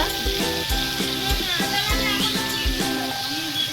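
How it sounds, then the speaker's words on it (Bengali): Onion, ginger, garlic and green chili paste sizzles loudly in a pan for restaurant-style chicken chaap, a steady close fry under intermittent stirring, with background music playing throughout. "এবার আমি দিয়ে দেবো পেঁয়াজ বাটা পেঁয়াজ বাটা আদা রসুন কাঁচা লঙ্কা বাটা"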